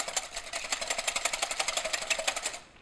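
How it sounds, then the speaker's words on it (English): Two eggs beaten with a wire whisk in a bowl, a fast even clicking rhythm of metal against the bowl that runs steadily and then stops at the end. "I'm just using a wire whisk, and I'm just going to whisk those."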